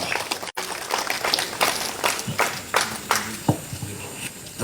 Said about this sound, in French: Applaudissements, Madame Luisère.